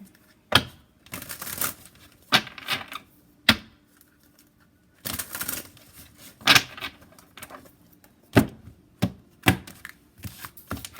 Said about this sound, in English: Y'all hear me shuffling these cards